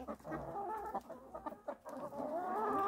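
Several Brahma chickens, with a rooster, cluck and murmur close by on a farm in the morning in a steady, busy chatter, with short bursts of sharper calls.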